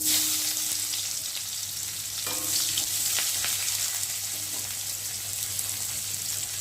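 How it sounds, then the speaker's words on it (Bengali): Onions frying in hot oil in a kadai, a loud continuous sizzle with faint scraping and stirring clicks throughout. "এখন আমি পেঁয়াজগুলোকে দিয়ে ভালো করে ভেজে নেব"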